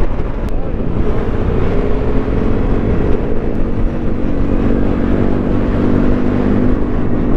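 A boat motor drones loud and constant close to the microphone, a dense rumbling engine roar with wind buffeting and no break for the whole stretch.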